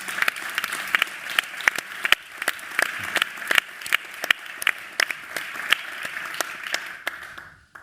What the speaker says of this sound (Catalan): Un aplaudiment, sí.